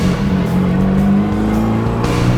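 A 1962 MG Midget engine accelerates loudly and up close on a practice run, a steady rising drone with a tonal whine through a gear, carrying on unbroken with no talk over it.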